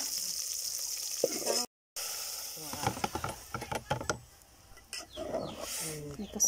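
Mung beans sauté in a home kitchen pan, giving a soft sizzle with occasional stirring clinks, briefly cut off, while someone talks over the cooking.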